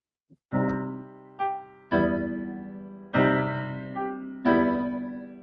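Heavy, dark orchestral chords from a film theme strike in a slow march-like sequence, six loud accented hits that each swell and decay, played alone without voices.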